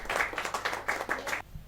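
Audience applause at a Hindi kavi sammelan poetry event welcoming a new honorary director: a steady burst of many hands clapping for about a second and a half, then cutting off abruptly into quiet.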